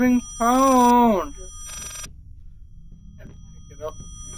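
A telephone bell rings in a single loud burst, then a second shorter ring after it, with a voice exclaiming over the first ring and quieter background noise afterward.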